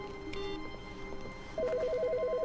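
A telephone rings in The Stanley Parable video game, a repeating electronic trill that starts partway through and pulses rapidly and steadily over quiet background hum.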